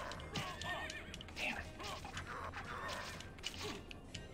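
A horse in a video game whinnies faintly through a busy, low-level game soundscape, with short creaks and mechanical clatter around it.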